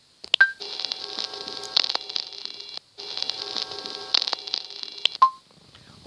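Hidden tone from a Minecraft music disc, heard as a steady buzzing, crackly recording with faint shifting tones and brief beeps, broken by a short gap midway, alone without talk.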